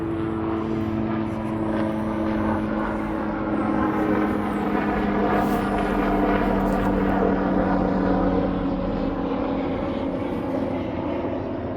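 A helicopter circling overhead outdoors at a wild campsite, its steady droning rotor and engine hum holding fairly loud and constant throughout, with no talking.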